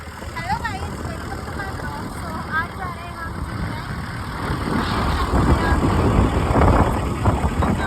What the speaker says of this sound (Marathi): ट्रॅफिक लागलेलं आहे मध्ये, पाहू शकता तुम्ही.